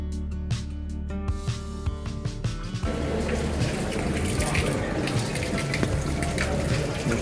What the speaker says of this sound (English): our first stop was in front of this fountain to fill our water bottles